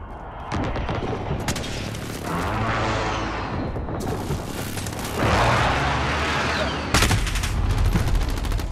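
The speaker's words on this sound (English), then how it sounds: "Friendly precision airstrike on the way" A precision airstrike in the video game Call of Duty: Modern Warfare on the Piccadilly map, with dense rolling explosions and bursts of gunfire building into loud, sustained booms.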